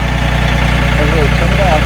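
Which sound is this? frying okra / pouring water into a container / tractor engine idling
tractor engine idling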